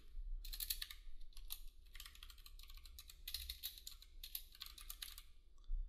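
Typing an email address on a computer keyboard: bursts of rapid, close key clicks separated by brief pauses, over a low steady hum.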